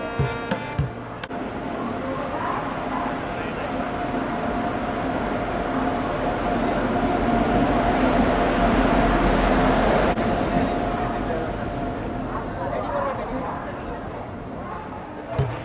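An express train on the Guntur to Rayagada route rolls into a busy station platform at night, a long, loud rumble building and easing, with a crowd and voices around it.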